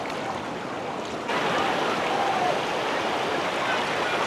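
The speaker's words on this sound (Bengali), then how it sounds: "যেদিকে ক্যামেরা ঘুরাই সেদিকেই কলো কলো শব্দ" Gurgling stream water at Utmachhara, a steady broadband rush that grows a little louder after the first second and continues without pause, with no voices.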